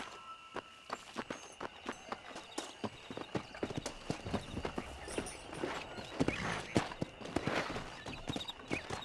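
Horse hooves clip-clopping on a ride in Red Dead Redemption, a brisk irregular gait of close thuds that quickens and grows louder toward the end, with no talk over it.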